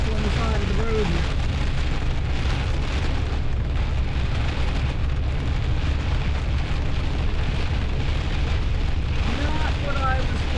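Hail drums steadily on the roof of an RV being driven through a hailstorm near Mount Rushmore in South Dakota, a dense, continuous patter over a low road rumble.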